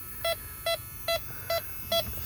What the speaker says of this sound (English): We can mute it if the beeping annoys us